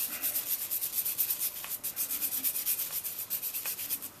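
Rust is being cleaned off the flywheel of a 3.5 hp Nissan or Tohatsu outboard motor with steady back-and-forth scrubbing strokes. The rasping strokes repeat in a quick, even rhythm, close by, with no talking.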